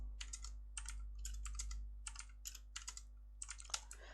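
CSS code is typed on a computer keyboard in quiet bursts of key clicks with short pauses between them, close and fairly faint over a low electrical hum.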